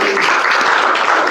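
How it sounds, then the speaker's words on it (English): Brief, loud burst of audience applause at a speaking club meeting, dense and continuous throughout. "With a huge round of applause"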